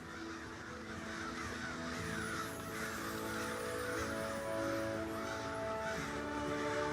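Crows caw repeatedly outdoors, several harsh calls overlapping and repeating at moderate distance over steady background noise, with no talk.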